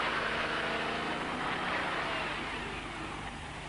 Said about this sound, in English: I think he's realized the gear's too low, creating wheel spin.